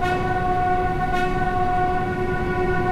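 The horn of an ex-London Underground D-Stock train in Train Sim World 3 sounds as one loud, steady, multi-tone blast held without a break, with a faint rail rumble underneath.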